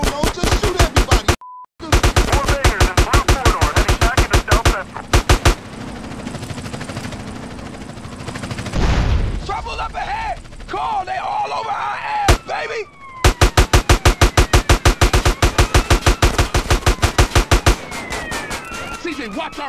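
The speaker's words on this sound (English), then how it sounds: "just shoot everybody" Rapid automatic gunfire fills a GTA: San Andreas gang shootout in loud, dense bursts, pauses for shouting voices and other game sounds, then resumes with sustained volleys.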